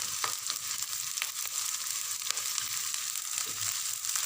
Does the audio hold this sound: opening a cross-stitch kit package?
no